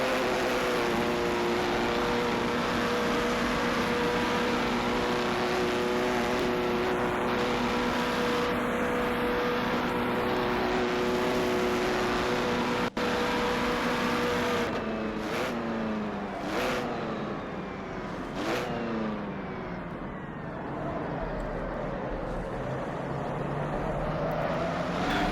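Engines of 1939 Grand Prix cars in a racing game at the Reims-Gueux circuit roar continuously and loudly, with pitch rising and falling through gear changes and several cars sweeping past in quick succession near the end.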